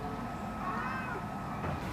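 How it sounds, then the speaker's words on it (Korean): A mother cat meows in a long, drawn-out, plaintive cry, mid-distance and moderately loud, rising and falling over a low background hum. "여전히 그 자리에서 울고 있는 어미 고양이"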